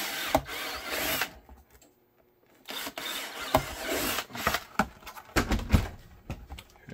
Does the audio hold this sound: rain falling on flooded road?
no